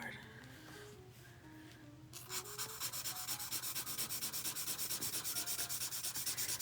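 A dry Ohuhu marker scratches across paper while coloring, first in slow strokes and then in a fast, even, rhythmic rasp. A faint tonal hum sits underneath throughout.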